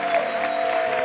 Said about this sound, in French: Du bruit pour Déborah, s'il vous plaît